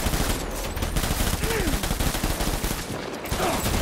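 Gunfire in the Death Stranding video game, a dense burst of rapid shots in a fast continuous rhythm with a few whooshing effects, loud and close under the game's soundtrack.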